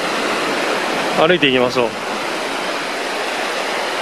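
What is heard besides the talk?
river murmuring through hot spring town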